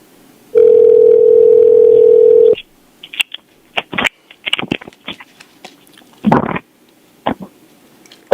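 A steady telephone dial tone sounds for about two seconds while a three-way jail phone call is being set up, followed by scattered clicks and brief handset noises.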